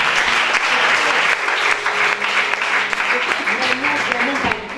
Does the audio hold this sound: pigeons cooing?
no